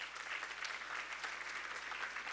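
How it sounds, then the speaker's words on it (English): An audience applauds at a water and sanitation congress closing ceremony, a steady, dense clapping that sounds distant and fairly faint in a large hall. "Can we clap and appreciate the organization"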